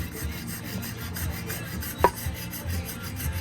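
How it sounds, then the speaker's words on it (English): Scraping carbon buildup off a sticky valve from a Stanley steam car engine, a steady rasping rub with one sharp metallic scrape midway, close and fairly quiet. "They're scraping a bunch of carbon buildup from a sticky valve."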